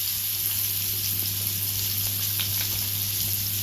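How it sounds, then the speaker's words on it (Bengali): Potato pieces fry in spiced oil with turmeric and Kashmiri chilli for egg biryani, an even, continuous sizzle close to the pan with a low steady hum beneath and occasional soft stirring touches. "পিস আলু ভালো করে একটু ভেজে নিচ্ছি, সামান্য হলুদ গুঁড়ো আর কাশ্মীরি লঙ্কা দিয়ে"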